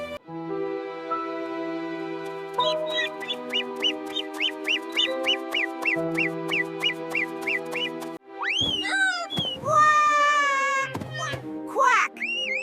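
Cartoon duck voice quacking in a snowy children's animation, a quick run of rhythmic nasal quacks over background music, followed by more excited, louder squawking calls near the end.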